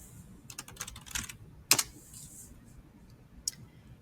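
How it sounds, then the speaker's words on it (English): A few quick keystrokes on a computer keyboard as a layer name is typed, light clicks in a short cluster followed by a single sharper tap, then quiet. "double click the name of the shape and type flower"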